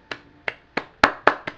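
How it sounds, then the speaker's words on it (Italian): Six sharp, separate hand claps ring out at a slow, even pace, close and fairly crisp, with quiet between each one and no other sound. "Applausi, applausi, applausi."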